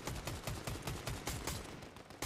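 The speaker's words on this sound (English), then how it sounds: "This person is shooting from the right." Rapid automatic gunfire in Fortnite, a steady rattling burst of evenly spaced shots lasting a couple of seconds, loud and close with no voices over it.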